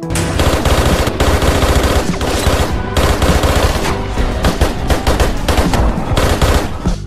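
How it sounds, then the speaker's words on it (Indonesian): Loud, dense automatic gunfire from a shootout in the film Reprisal, with police joining in, rapid continuous bursts with short breaks and overlapping shots filling the scene. "Di sini mereka saling menembak hingga dua polisi juga ikut terlibat."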